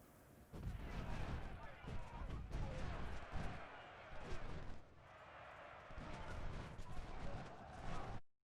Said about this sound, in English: My artillery's just been blasting at people